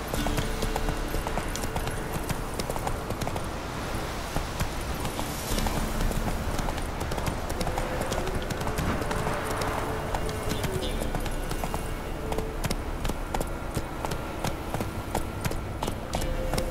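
Roach the horse gallops in The Witcher 3, with rapid rhythmic hoofbeats drumming steadily and loudly throughout and a voice talking over them at times.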